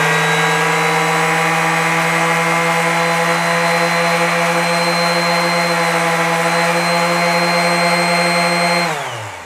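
Stanley SS30 orbital sander running with no load, a loud steady electric whine with strong harmonic hum that holds constant for about nine seconds, then winds down abruptly at the end when switched off.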